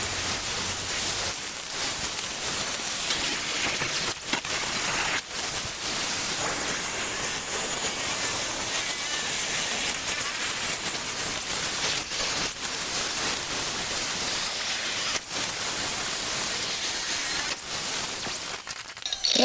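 A steel plate on a lawn roller hitch is cut down with a power tool, giving a loud, continuous harsh hiss and grind that runs unbroken and close, interrupted by a few brief dips.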